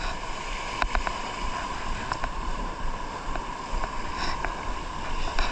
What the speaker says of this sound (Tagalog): Ang mga alon.